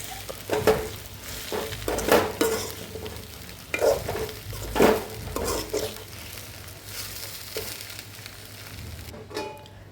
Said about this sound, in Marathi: आता याच्यामध्ये टाकूया हे भिजवलेले मुरमुरे आणि याला व्यवस्थित परतून घेऊया